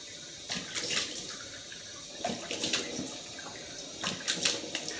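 Cold water runs from a tap during a straight-razor shave, a steady close hiss with irregular splashing surges as hands move through the stream.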